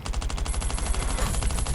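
Rapid automatic gunfire in the video game Last Island of Survival rattles continuously in a dense, steady burst, fairly loud with no talking over it.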